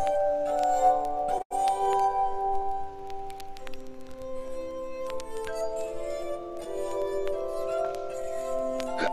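Glass strikes against glass several times, each clink leaving sustained, bell-like ringing tones that overlap and linger at a fairly quiet level, with no talking.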